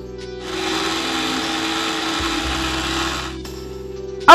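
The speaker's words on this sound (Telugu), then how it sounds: "సో ఈ ఖర్జూరాలన్నిటినీ కూడా ఇప్పుడు చక్కగా మనం గ్రైండ్ చేసేసుకుందాం" A mixer grinder grinds dates for khajur laddu, a close, loud motor whir that runs steadily for about three seconds before stopping, with a sharp clunk at the very end.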